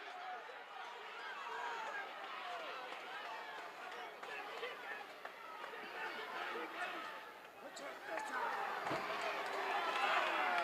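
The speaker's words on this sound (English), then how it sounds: "you can get the tremendous upheaval in this crowd as they point him in the right direction" A crowd at a 1980 wrestling match in an arena keeps up a distant, continuous roar and chatter, swelling louder near the end, under a commentator's talk.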